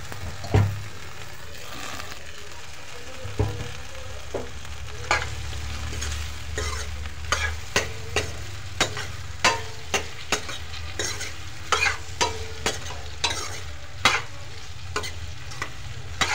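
Vegetables fry in hot oil with onion while being stirred, a steady low sizzle broken by a regular series of sharp scraping and clattering stirs, close and fairly loud, with no talking.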